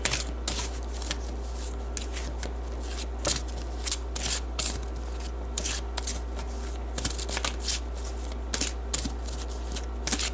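Tarot cards are shuffled repeatedly near the listener, giving soft, rapid riffling and flicking bursts in an irregular rhythm over a constant low hum, with no speech.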